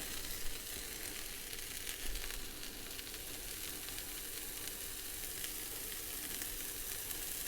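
Shredded Parmesan cheese sizzles steadily in a hot chaffle maker, a constant bright crackling hiss close up that holds evenly from start to finish, with no voices.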